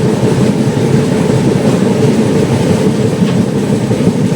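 A passenger train entering Dalkhola rumbles along continuously at close range, a steady low roar of wheels on track with faint clacking underneath.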